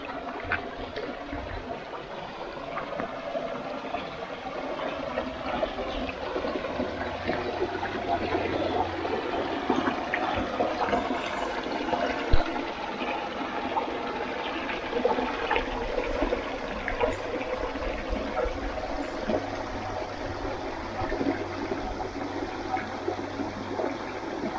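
Little streams of water cascade on a walk in the Granite Belt near Stanthorpe, making a steady, continuous trickling and splashing that holds at a moderate level over a soft background rumble.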